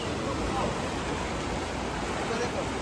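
Rushing river water pours steadily across a road it has broken and cut away, a constant loud broadband roar close by with no pauses, no other sounds standing out.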